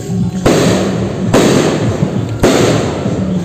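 Firecrackers set off for New Year celebrations crack loudly nearby, three sharp bangs spaced about a second apart, each followed by crackling debris and a lingering rumble.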